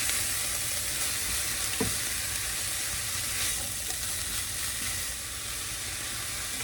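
Onions and mixed vegetables sauté in a pan with a steady, dense sizzle and hiss that holds evenly throughout, close up, with a faint clink near the start and no talking.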